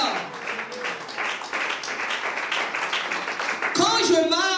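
A church congregation applauds and cheers during a worship seminar, steady clapping with voices over it, ending in a brighter burst of cheering and singing.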